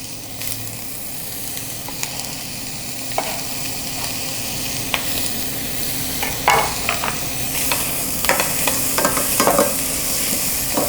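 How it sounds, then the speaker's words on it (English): Onions sauté in avocado oil for vegan Southern fried cabbage with a steady, close sizzle. Spatula clicks and scrapes grow busier toward the end. "Next, I'm adding my onions, and I'm just gonna saute my onions until they're soft."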